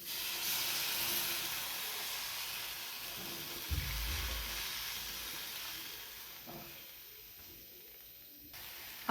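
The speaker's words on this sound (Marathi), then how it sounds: "आपण इकडे पॅनमध्ये ह्या शेंगा टाकलेल्या आहेत आणि आता आपल्याला याला असं भाजून घ्यायचं आहे." Cluster beans (guar) roasting dry in a pan on a gas stove, a soft continuous hiss and sizzle with a brief low thump midway, fading slightly toward the end, no voices.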